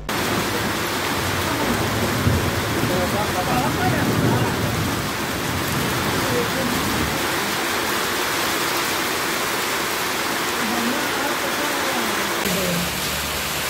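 Unseasonal rain pours steadily in Palamu, a dense continuous hiss of heavy rainfall, loud and unbroken throughout.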